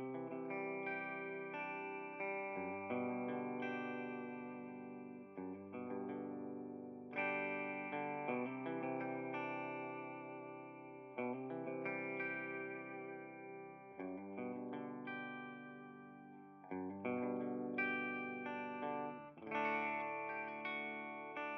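An Epiphone 1963 Firebird V electric guitar plays through distortion and chorus effects, loud and close, with sustained ringing chords and melodic phrases flowing continuously, no voices present.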